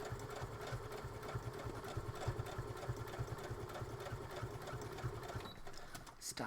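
A sewing machine stitches a seam on a squishy project bag with a steady, rapid mechanical whirr and clatter, running continuously before slowing and stopping near the end.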